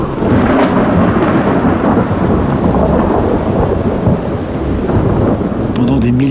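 A torrential downpour pounds steadily as thunder rolls and rumbles beneath it, the whole storm loud, close and continuous, with no pause in the rain.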